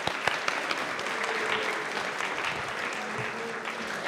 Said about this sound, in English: please give Citadel a round of applause and welcome them to the stage